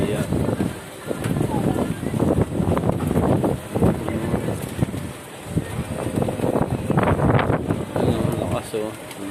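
Strong wind blowing at a window, roaring and buffeting the microphone in gusts, with people talking over it.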